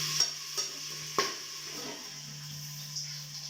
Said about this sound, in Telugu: బఠానా వేసేసి అల్లాన్ని వేసుకుంటున్నాను